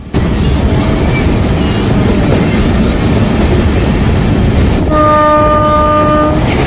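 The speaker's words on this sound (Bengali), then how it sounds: "এই মুহূর্তে আমাদের ট্রেন স্কিপ করলো খালতিপুর রেলওয়ে স্টেশন" Sairang Kolkata Express, a passenger train on its inaugural run, speeding through Khaltipur station, heard as a loud steady roar of wheels on rails, with a long sustained horn blast near the end.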